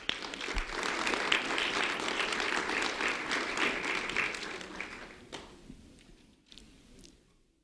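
Audience applause for two honored fourth-grade students, a dense burst of clapping that holds steady and then tapers off into scattered last claps before fading out.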